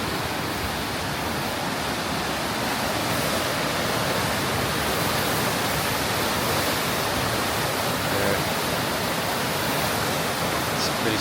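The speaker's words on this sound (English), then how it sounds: "Pretty serious rapids." Serious river rapids roar loudly and continuously beside a bridge on a trek in the Peruvian Andes, a dense, unbroken rush of whitewater close by.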